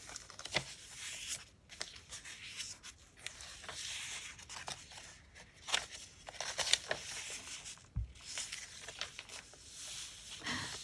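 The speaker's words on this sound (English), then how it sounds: "It's printed on tracing paper, so it's really nice. Makes a nice sound." Tracing-paper journal pages rustling and crinkling as they are flipped through one after another, a close, soft papery crackle with irregular bursts and short pauses, no voices.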